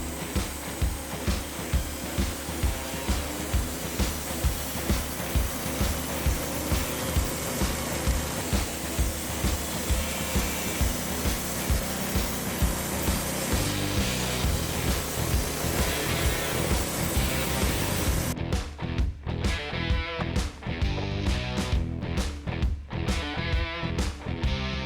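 Woodmizer band sawmill cutting 2-inch flitches, running as a loud, steady mechanical drone with a regular rapid pulse, then shifting near the end to sharper, choppier knocks and clatter as the cut finishes.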